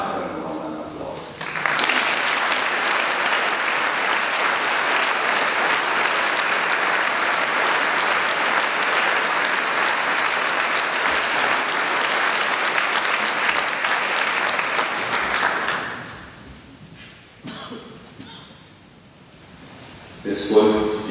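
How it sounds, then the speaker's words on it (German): Audience applause at a foundation concert in Ausserberg, a broad sustained wash of many hands clapping for well over ten seconds, then tapering off into scattered claps and murmurs before a louder burst near the end. "Ich kriege aber auch nochmal einen Applaus."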